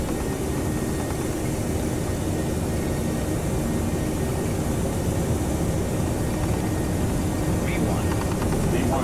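Airliner jet engines roar steadily at takeoff thrust in a Prepar3d flight simulation of a Delta Airlines flight departing Jacksonville, a loud continuous broadband rumble with no pauses.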